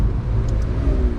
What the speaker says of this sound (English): The engine's working a little bit harder when you're going at a higher RPM.